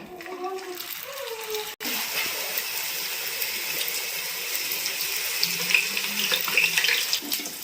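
Wheat-flour puris hit hot oil and fry, giving a steady broad sizzle and bubbling hiss that holds close and fairly loud throughout, with a brief voice at the start.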